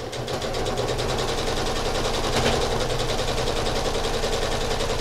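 A sewing machine stitches a quilt in a fast, even mechanical chatter that runs continuously at close range and moderate loudness, without talking.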